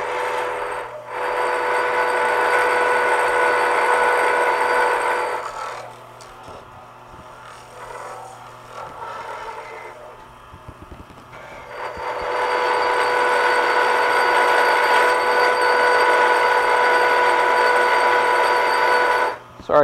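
Acrylic pen blank for a slimline pen turning on a lathe, a loud, steady whirring and scraping drone with a quieter stretch in the middle before the cutting noise returns, no talk.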